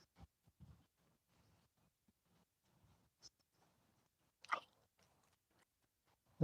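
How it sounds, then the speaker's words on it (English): A horse chewing carrots during evening playtime, soft irregular crunching and munching close by, quiet, with a couple of louder crunchy bites standing out. "Chewing carrots."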